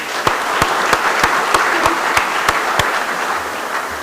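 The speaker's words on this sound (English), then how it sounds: "Let's give them a big round of applause again" A conference audience at ALL4US 2025 applauds steadily, a dense close wash of clapping with a few sharper, regularly spaced claps standing out for about four seconds before it thins slightly at the end.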